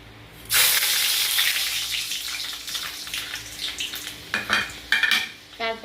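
Fenugreek seeds with green and dried chilli hit hot oil for tempering, bursting into a loud sizzle that gradually settles, followed by a few sharp clinks of a utensil against the pan.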